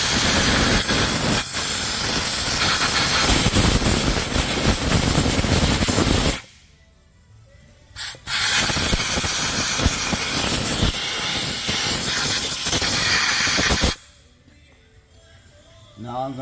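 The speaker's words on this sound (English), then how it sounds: "I like to grab some brake clean and some shop air and clean the hole out." Brake cleaner spray and shop compressed air blasting out a hole on a Ford Explorer: loud, close, steady hissing in two long bursts, each about six seconds, with a brief quiet gap and a short spurt between them.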